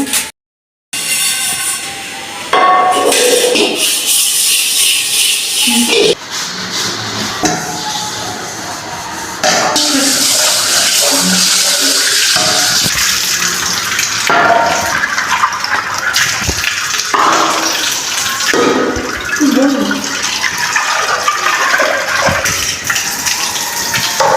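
Duck meat is rinsed under running water in a home kitchen, with a steady gushing stream broken by pauses, splashes and occasional clatter, close and fairly loud.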